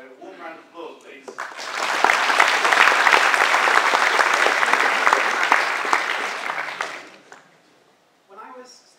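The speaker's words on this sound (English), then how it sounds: "So, warm round of applause, please." An audience bursts into warm applause for the next speaker at a physics talk, a sustained clapping swell lasting several seconds, with brief speech before and after.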